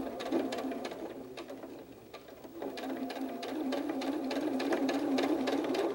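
A sewing machine stitches 1-inch fabric strips onto a hedgehog softie, a steady close whirring run that holds for the whole stretch with a brief dip midway, no talking over it.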